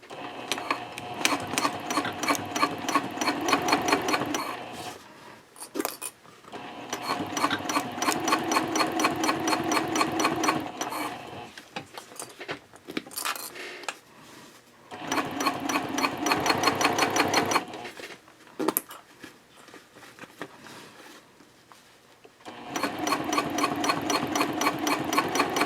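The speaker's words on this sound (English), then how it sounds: "Then I'll stop that scant 1/4 of an inch away from the top, pivot, and then I will stitch across the top edge." A sewing machine stitches Cordura fabric for a trifold wallet, running in loud, steady bursts of rapid needle strokes, with short pauses between seams where the machine stops and pivots.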